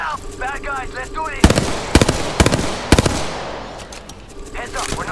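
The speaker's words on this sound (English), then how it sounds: "Shots fired at me." Apex Legends gunfire arrives as three close bursts of rapid automatic shots around the middle, cutting across a speaking voice that runs at the start and returns near the end.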